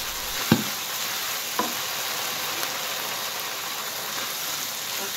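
Spicy salted squid sambal fries in a pan with a steady, close hiss and sizzle, broken by a couple of faint utensil clinks, with no talking.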